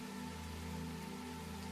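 Steady rain pours outside a cozy forest cottage, a constant even hiss with a low hum beneath, soft and unbroken with no voices.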